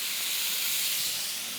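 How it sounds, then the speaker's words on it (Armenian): Bacon frying in a hot pan gives a steady, close hissing sizzle, bright and continuous throughout, with no voices over it. "Հիմա դնենք մի քիչ բեկոնը տապակվի"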